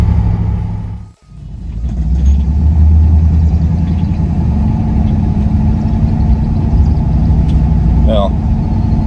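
A 1965 Buick Riviera Gran Sport with a driveline vibration on a test drive, heard from inside as a loud, steady engine and road drone that briefly dips near the start, then holds a continuous rumble.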